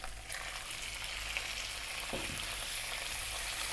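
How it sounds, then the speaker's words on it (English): Onion and meat dropped into a pan of hot olive oil over above-medium heat, a steady loud sizzle and crackle that swells slightly as the food lands, with a brief stir-like scrape midway. "I'm going to drop in the onion and your meat of choice."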